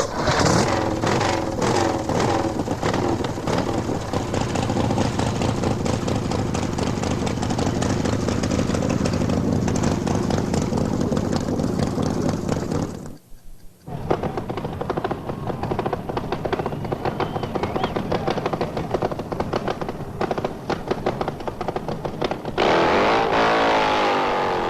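A nitromethane-burning Harley drag racing motorcycle at an early-1990s drag strip, a harsh, loud engine roar held for long stretches, cut by a brief gap and then a second sustained blast of revving.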